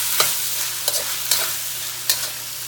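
Thai green curry paste fries in a wok that is beginning to stick, a steady close sizzle with four sharp spatula scrapes and taps spaced irregularly, no talk.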